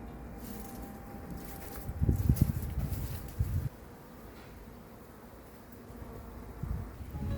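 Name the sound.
bees buzzing at a beehive in a bedroom wall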